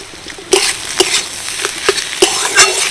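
Boiled potatoes are mashed by hand in a rhythmic series of about six soft, wet squelches, each a short burst spaced roughly half a second apart, close and fairly loud.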